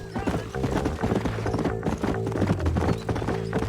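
A horse gallops up in Red Dead Redemption, rapid close hoofbeats clip-clopping in a steady rhythm with tack jingling, briefly under faint background sound.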